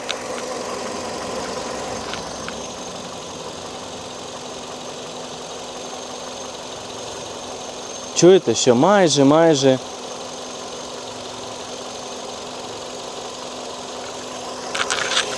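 A Hyundai i30 engine idles steadily with a faint rattling vibration, while a person speaks briefly partway through.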